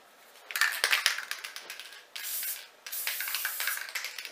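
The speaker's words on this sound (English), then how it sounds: "We're going to try spraying a little bit more on here." A spray can hisses in several bursts onto a hoodie being prepared for machine embroidery on a Tajima 8-needle machine, with short bursts early and longer sustained sprays later, close and fairly loud.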